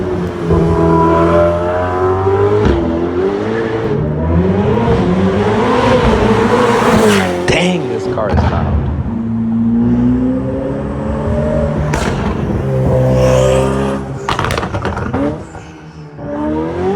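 A Ferrari 488 Pista's twin-turbocharged 3.9-liter V8 engine revs loudly and continuously, pitch rising and falling through aggressive accelerations with a few sharp bursts, close and dominant throughout.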